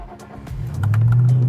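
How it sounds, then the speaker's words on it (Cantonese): TVR Chimaera 400 sports car's V8 OHV engine starting: brief cranking clicks, then it catches into a loud, deep, muffled rumble that settles steady, heard close up. "好，着車。 最期待呢款引擎㗎啦 ，OHV 啊！"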